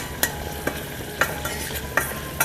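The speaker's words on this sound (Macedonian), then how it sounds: "Нека се пропржат." Vegetables fry in a pan with oil, sizzling steadily while a utensil stirs and scrapes in sharp, regular strokes about every half second, close and alone without talk.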